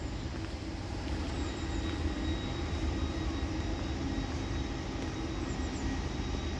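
A Class 323 Northern electric train departing Deansgate station, a steady, fairly distant rumble and whine rolling on without pause, no voices over it.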